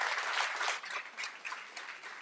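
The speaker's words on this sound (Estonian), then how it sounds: "Teeme veel ühe suure aplausi." Audience applause at a student-days poetry event in Tartu, a dense wash of many hands clapping at steady loudness, tapering slightly toward the end with no voices over it.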